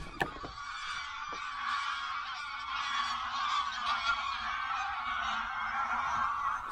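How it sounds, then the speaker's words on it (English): Geese honk continuously in a noisy flock, many overlapping calls at moderate distance, with a few sharp knocks near the start. "The geese making a noise."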